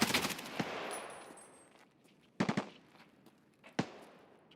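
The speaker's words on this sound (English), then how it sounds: "I think that's an emplacement gun then" A mounted emplacement machine gun fires in Escape from Tarkov, a sharp rattling burst up front followed by a fading tail, then two shorter bursts of shots, loud and close with no talk over them.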